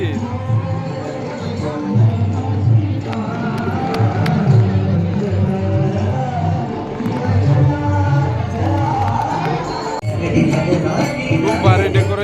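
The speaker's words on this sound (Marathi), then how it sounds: "खूप गर्दी आहे खूप." A dense crowd fills Wagheshwar temple on Mahashivratri, a constant close hubbub of many voices with scattered taps and footsteps, while a nearby speaker talks over the babble.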